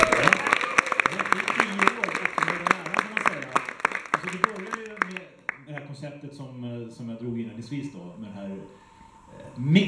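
Studio audience applause at a Stockholm radio studio interview with a band, a dense stretch of clapping for about five seconds that then fades out as talk takes over.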